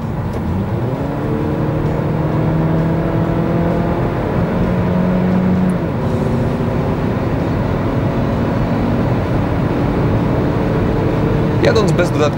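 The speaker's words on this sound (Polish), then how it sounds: "Na trasie przyspieszenie symulujące wyprzedzanie, czyli od 90 do 140 km na godzinę," A 2017 Kia Niro 1.6 GDi hybrid accelerates on a road from 90 to 140 km/h, its engine drone rising steadily in pitch inside the cabin with tyre and wind noise, heard without speech.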